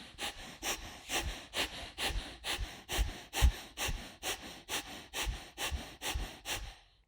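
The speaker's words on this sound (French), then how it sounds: "Ici, vous respirez d'une manière puissante et régulière." Strong, regular breaths during a seated yoga twist, about fifteen even inhale-exhale cycles in steady rhythm, close and fairly quiet with no speech.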